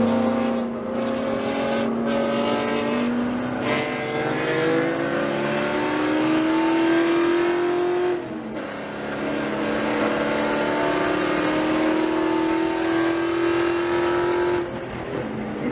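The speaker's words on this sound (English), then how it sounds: "Full throttle in 3rd gear," A C5 Corvette race car at full throttle in 3rd gear on a racing circuit, engine note climbing steadily in long loud sweeps with a brief dip at a gear change, close and sustained with no talk.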